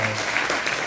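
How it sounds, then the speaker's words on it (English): Audience applause at a county sheriff summit: a short, dense burst of steady clapping from a crowd, loud and continuous throughout with no voices over it. "Let's give these gentlemen another round of applause."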